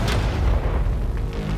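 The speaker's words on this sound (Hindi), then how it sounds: "ये 5 टैंक्स पैसों पर निशाना लगाकर 20 राउंड फायर करने वाले हैं" A tank cannon fires one shot at a target of money, a deep, heavy boom with a rumbling tail that fills the short stretch, loud and close.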